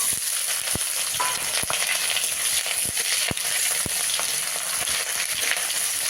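Chopped onion sizzles steadily in hot oil after whole garam masala spices, with sharp clicks of a spoon stirring and scraping the pan, close and alone without speech.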